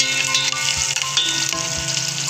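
Onion sizzles steadily in a hot pan, fried with cinnamon for a Malvani fish curry. The frying is continuous and close, with faint stirring sounds and no talking.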